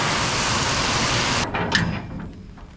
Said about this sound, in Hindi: इतनी ज़्यादा भयंकर बारिश हो रही है